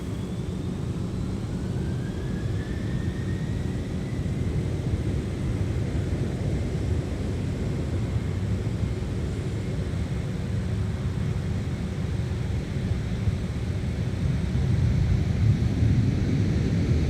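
Airliner rolling for takeoff from runway 12 right at Minneapolis–St. Paul airport, a steady broad jet roar that builds slightly toward the end, heard from a distance with wind buffeting the microphone and no talk.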